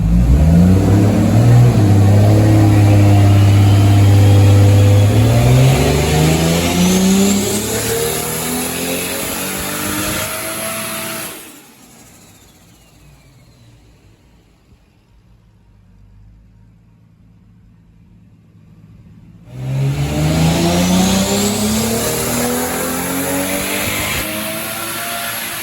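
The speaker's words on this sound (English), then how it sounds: "Car's already on the dyno. We're gonna go ahead and start rolling right now, doing the 91 tune." A Toyota Supra engine on a dyno running a 91-octane tune, revving loudly and climbing steadily in pitch, then dropping off to a quiet lull before a second loud pull rises again.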